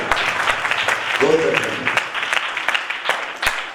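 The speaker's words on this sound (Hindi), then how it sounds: "जोरदार ताली बजाइए।" Applause rises from a church congregation during a worship service, a brief burst of clapping beneath someone speaking over a microphone.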